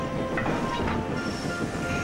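A steam locomotive in a children's railway story rumbles steadily, with a dense, continuous chuffing and rolling rail noise and no talking.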